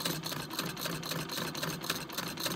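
An Electa sewing machine with a repaired needle plate stitches through two layers of denim, giving a steady, fast mechanical whirr with quick regular clicks throughout, fairly close and moderately loud, with no voices.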